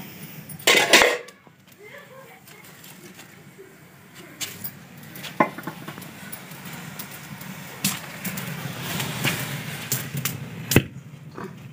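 A metal pot of boiled milk clanks sharply against the stovetop in a village kitchen in Pakistan, followed by quieter scattered kitchen clatter and soft rustling.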